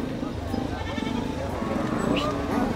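A goat bleats in a wavering, drawn-out call amid a noisy background with people talking.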